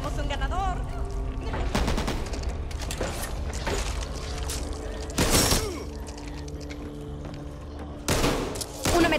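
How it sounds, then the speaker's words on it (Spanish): Machine gun fire in the video game Back 4 Blood on Xbox One, rapid bursts of shots layered over constant in-game noise, with sharp loud blasts standing out near the middle and end. "¡Una ametralladora!"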